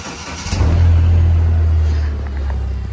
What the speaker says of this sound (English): I'm going to need to take this forklift across the street to unload one of my trailers